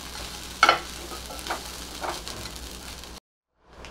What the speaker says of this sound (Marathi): तो पण थोडासा परतून घेऊ